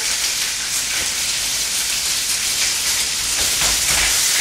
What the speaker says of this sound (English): I think I'm ready to throw the squid into the pan